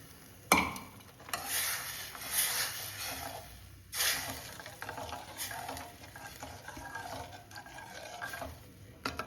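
Soaked moong and masoor dal tipped into hot frying masala in a pan sets off a loud, crackling sizzle with sharp bursts near the start and again midway, under continuous scraping and stirring.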